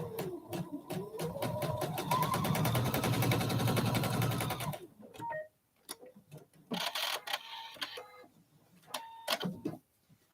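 A sewing machine stitches a quilt block seam slowly over pins, with a close, steady rhythmic whirring run that stops halfway, followed by scattered clicks, handling noises and short bursts of stitching.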